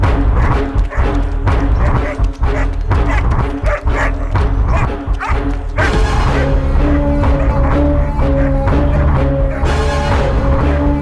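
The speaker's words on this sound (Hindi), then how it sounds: "ये आखिर इतना क्यों भौंक रहा है?" A dog barks repeatedly and excitedly in a loud, busy scene, with music and other sounds layered over the yips and barks.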